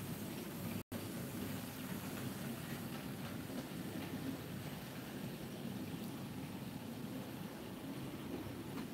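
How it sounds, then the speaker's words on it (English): A model railway train runs on its track on a layout, a steady faint rolling whir with soft clicking over rail joints, continuous and unbroken apart from one brief dropout. "The trains are running great."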